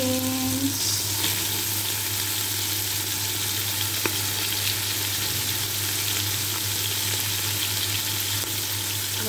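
Beans frying in a pan for pancit canton with bihon, giving a dense, constant sizzle that stays loud and even throughout, with a single faint clink partway through and no talking.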